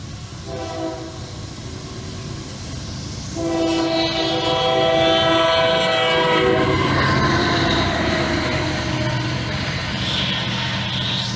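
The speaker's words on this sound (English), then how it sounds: "This is NS22K, a daily intermodal from Chicago, Illinois to Ayer, Massachusetts." Intermodal freight train NS22K, running from Chicago, Illinois to Ayer, Massachusetts behind Union Pacific heritage power, passes close and loud. Its horn blares in long sustained blasts over the steady rumble and clatter of the cars.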